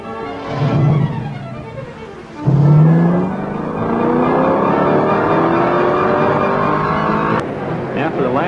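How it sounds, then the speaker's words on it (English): A 1960 Chevrolet Corvette races in the 24 Hours of Le Mans. The loud engine note climbs and swells as the car passes, then holds at a high, sustained whine, with a second surge of revving near the end. "Our number 2 Corvette was still in the race and still picking up places."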